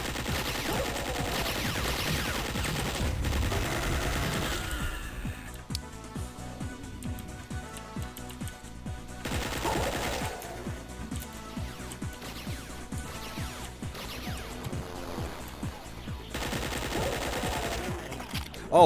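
Submachine gun fire using alternate ammo in Duke Nukem 64 rattles in repeated bursts over in-game music, with steady bursts of fire spread across the clip.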